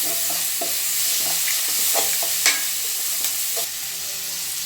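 Ginger garlic paste and curry leaves sautéing in oil for a chicken gravy, a steady close sizzle with scattered spoon scrapes and clicks against the pan, no talking.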